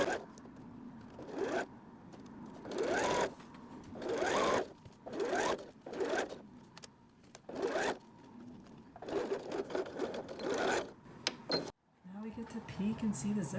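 A sewing machine stitching a zippered travel bag runs in repeated bursts of steady mechanical whirring, starting and stopping several times, close by.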